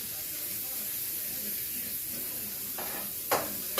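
Venison steak and onions fry in a pan with a steady, close hiss of sizzling. A couple of sharp clicks or scrapes come near the end.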